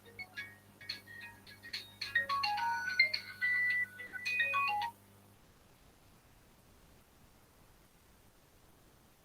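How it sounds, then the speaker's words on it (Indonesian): A melodic phone ringtone plays for about five seconds, bright beeping tones in a short tune, fairly soft, then cuts off into near silence. "ini Bu Ika ada telepon"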